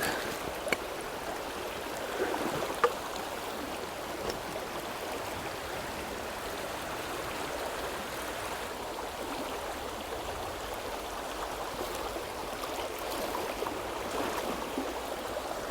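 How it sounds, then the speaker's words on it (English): Stream water rushes steadily past boulders in a deep river stretch, a continuous close, broad gurgling wash with no talk, holding an even level throughout. "you can just see the water as it zips past these boulders"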